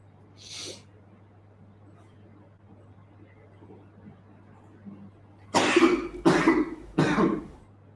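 A single short sound early on, then a few seconds of near silence, followed by three loud, harsh coughs in quick succession close to the mic.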